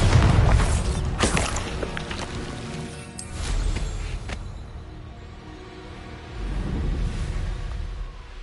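A Bombarda spell explodes in the Hogwarts Legacy video game, a loud booming blast with heavy low rumble right at the start, then further thuds and crumbling debris that settle and swell again.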